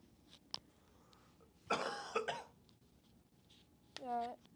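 A couple of short, sharp coughs burst out close by, with a brief gasping hiccup-like sound near the end, against a quiet room.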